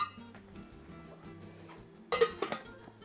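A metal lid set down onto a pot of low-simmering braised pork ribs, a sharp clank followed by a couple of smaller rattles as it settles, over a quiet kitchen background.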